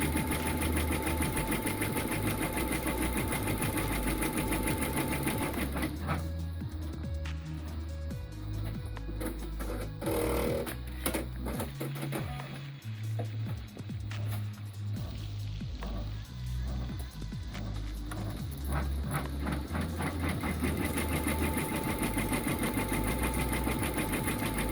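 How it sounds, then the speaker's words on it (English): An embroidery sewing machine stitches a trifold zipper pouch key chain wallet in rapid mechanical chatter. Its steady rhythmic clatter slows and shifts in the middle as it tacks down, then returns to quick, even stitching, close up. "Second stitch sequence is going to tack it down."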